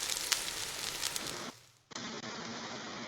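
A steak sizzles on the grill with a dense crackling hiss that cuts out briefly partway through, then resumes as a steady, softer fizz.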